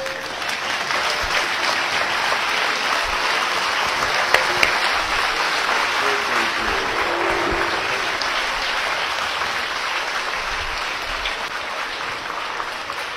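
Dense, sustained applause from a large audience after a motivational speech by an Indian ambassador, loud and even for the whole stretch with no voices standing out.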